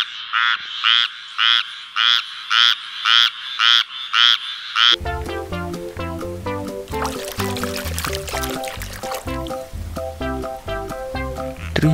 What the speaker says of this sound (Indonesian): Ini katak.